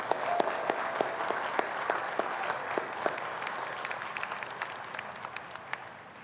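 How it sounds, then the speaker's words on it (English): At a college graduation ceremony, a crowd gives a round of applause: individual sharp claps ring out at first, then thicken into dense, steady clapping that tapers slightly at the end. "I think that's worth a round of applause."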